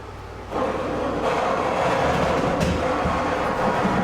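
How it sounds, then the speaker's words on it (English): Steam is injected into a commercial bagel oven in a bakery, and a broad hiss swells up about half a second in and then holds steady and fairly loud to the end, with no talking. "Now, you can hear the steam noise in the background."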